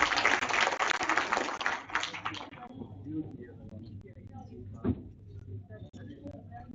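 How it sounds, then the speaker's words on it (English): Dense audience applause at an international conference on industrial change and transformation, loud and steady for about two seconds before thinning out and fading into quiet hall ambience. "Give a huge round of applause and welcome him."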